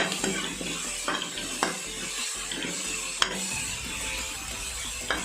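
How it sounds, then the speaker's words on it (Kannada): Green chilies fry in a pan while being stirred, a soft sizzle running throughout with occasional metallic scrapes and taps of the spoon against the pan, close up and with no talking. "ಒಂದೆರಡು ನಿಮಿಷ ಈ ರೀತಿ ಇದನ್ನು ಮಿಕ್ಸ್ ಮಾಡಿ ಸ್ವಲ್ಪ ಫ್ರೈ ಆಗೋದಕ್ಕೆ ಬಿಡೋಣ"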